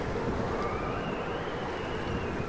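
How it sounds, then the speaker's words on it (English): Steady, loud wind in the video game Tomb Raider (2013) roars continuously with a broad rushing hiss and low rumble, no pauses and no voices. "Can we just stop this wind? It's so noisy."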